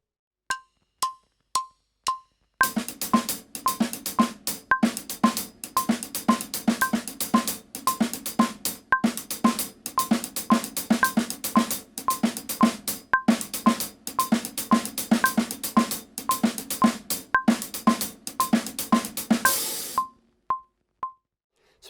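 A drum sticking pattern with the right hand on the hi-hat and left on the snare, a steady, tight stream of crisp strokes with a ringing accent, preceded and followed by a few sparse click-like count-in hits.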